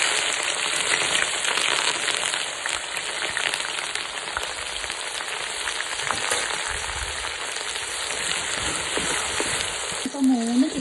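Mustard seeds and fenugreek sizzle and crackle steadily in hot oil while garlic pickle is being prepared, a dense, close frying hiss that is continuous throughout, with a brief voice near the end.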